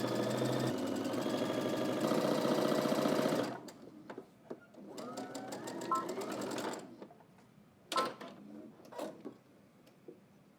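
A sewing machine stitches a 5/8-inch seam across jersey knit, joining the front to the front yoke. It runs in a steady, loud burst at first, then continues in shorter, uneven bursts with mechanical clatter and pauses.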